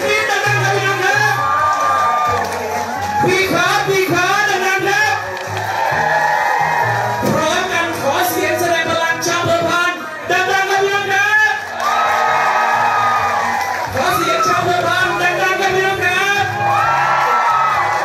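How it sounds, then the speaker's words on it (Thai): Dense crowd at a Pheu Thai party political rally in Chiang Rai, cheering, whooping and shouting loudly and continuously, with an amplified voice over the roar throughout. "ขอเสียงปรบมือและเสียงกรี๊ดดังๆนะพี่น้อง"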